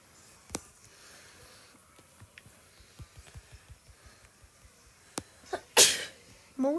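A single sharp sneeze bursts out near the end, loud and close, following a quieter stretch of faint rustling and small taps.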